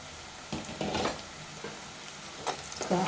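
Onions frying in a pan for chicken curry give off a steady moderate sizzle, with a few brief louder bursts of stirring or scraping and no voices.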